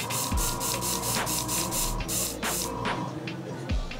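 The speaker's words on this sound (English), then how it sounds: "I'm gonna use my 245 card with my airbrush. And I'm gonna spray it lightly at first" An airbrush sprays a lineup during a barbershop taper, giving steady broadband hiss in repeated short bursts close to the mic, with faint clicks between passes and no talk.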